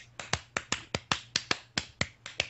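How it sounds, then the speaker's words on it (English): Sharp hand claps come over a Skype call in a quick, steady run of about twelve crisp smacks. They sound close and moderately quiet, with no talking. "I like it when you clap like that"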